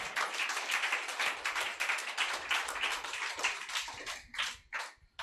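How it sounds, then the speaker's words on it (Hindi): A church congregation claps hands loudly and rapidly in a dense, rhythmic burst of many people, continuing steadily before thinning into a few last scattered claps. "जोर से ताली मारो।"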